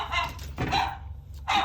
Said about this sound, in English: suddenly you'll hear loud barking and shrieking from inside.